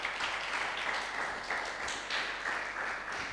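A church congregation applauds during a Sunday worship service at Bethel Church Ministries, a faint, distant and sustained patter of many hands clapping that swells and dips in waves.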